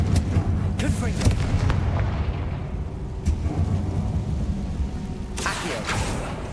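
Confringo explosion spell cast in the video game Hogwarts Legacy, heard as deep rumbling booms with sharp bursts of blast noise over a continuous low roar.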